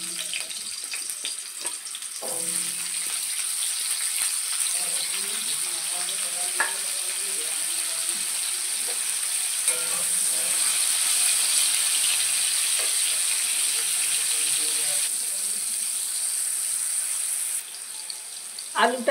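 Salted potato pieces frying in hot oil in a wok for Bengali vegetable khichuri, a loud steady hiss of sizzling oil with occasional clinks and stirring sounds close by.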